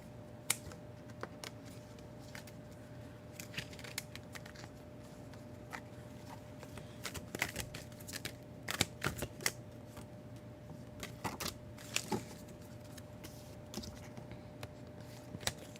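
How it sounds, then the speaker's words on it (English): Tarot cards are shuffled by hand in quick, soft riffling clicks and flutters, close but quiet, coming in irregular bursts over a low background hum. "Let me get these a good"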